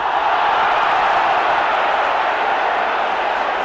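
A football crowd at a 1989-90 Blackburn Rovers versus Leeds match roars in protest after a challenge is given as a foul, a steady, dense wall of massed voices filling the stadium throughout.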